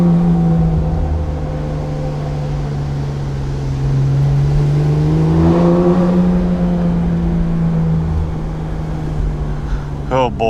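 A Porsche 911 GT3 RS engine drones steadily while the car drives slowly, its low tone rising and falling gently, near and continuous beneath a person talking.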